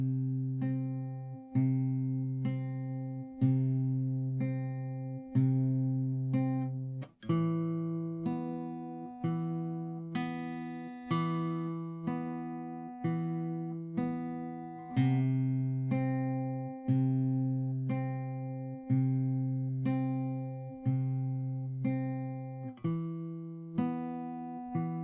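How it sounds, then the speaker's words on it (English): Fingerstyle acoustic guitar plays a riff, alternating four picked notes on each chord before changing, in a steady, even rhythm; clear, close and alone with no talking. "that's basically how you play the riff"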